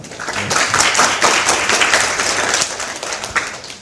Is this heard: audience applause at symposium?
yes